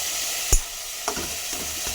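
Boiled papaya, potato and tomato are stirred and fried in a pan, a steady sizzle with a sharp utensil scrape and a few softer stirring knocks, close and continuous.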